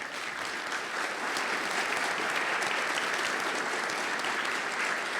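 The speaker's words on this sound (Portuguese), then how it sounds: "Uma salva de palmas para o Esquadrão VF-1." Naval VF-1 squadron members get a sustained ovation at a leadership symposium, dense crowd clapping that swells slightly after the first second and stays loud and even to the end.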